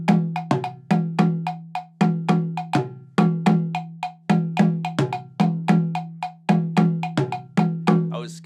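Bell or block struck as accompaniment to a dundun talking drum: crisp metallic strikes in a steady repeating pattern layered over deep, pitch-bending drum tones, close and loud, no voices.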